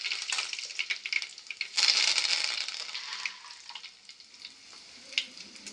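Curry leaves frying in hot oil with mustard seeds in a pan, a steady crackling sizzle that swells sharply for a second or so, then settles into a softer spatter with occasional pops.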